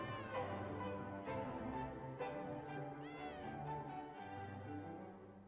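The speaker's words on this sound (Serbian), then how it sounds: "mačka" A cat meows repeatedly in drawn-out, wavering calls, close and moderately loud, with one rising meow near the middle and a low purring hum underneath.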